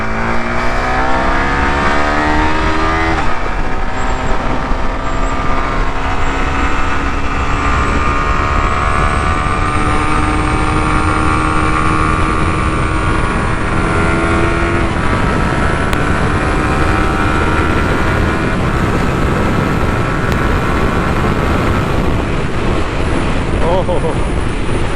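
Yamaha R15 V4 motorcycle engine under way with the quick shifter on, a loud continuous drone whose pitch climbs and shifts through gears, steady and close the whole time with wind rush.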